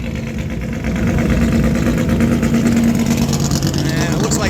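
Vintage race cars, including open-cockpit prototypes and older BMWs, line up in the paddock at Road Atlanta before a classic race, engines idling with a steady low rumble that continues throughout.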